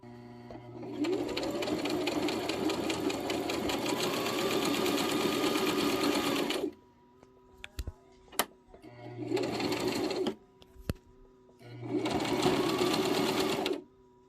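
A domestic sewing machine stitching hammock fabric runs in three bursts, a long steady whir, then two shorter runs. Brief clicks and knocks sound in the gaps, close and loud, with no talking.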